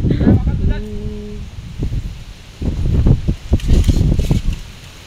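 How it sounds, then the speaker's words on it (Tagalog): Strong gusting wind roars and buffets the microphone in heavy bursts, with rustling, a brief tonal whine early on, and voices faintly mixed in. "Sobrang lakas ng hangin."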